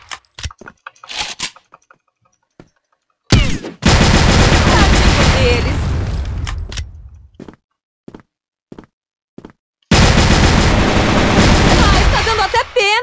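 Bursts of automatic gunfire in the online shooter game CrossFire, with scattered single shots and two long, loud sustained volleys separated by quiet gaps.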